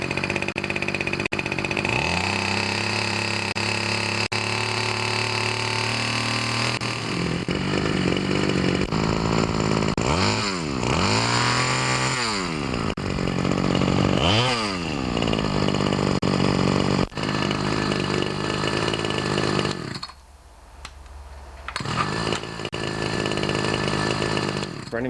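A Ryobi 2-cycle grass trimmer engine runs steadily up close with a buzzing drone, revving up and down several times in rising and falling sweeps, then dipping briefly before picking back up.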